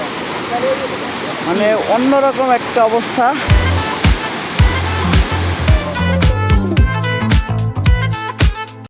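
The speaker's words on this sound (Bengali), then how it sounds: "আর এখানে এই ঝর্ণার শব্দ" Shoilo Propat waterfall in Bandarban, broad rushing water as a steady roar under someone talking, with other voices and some music or tonal sounds partway through.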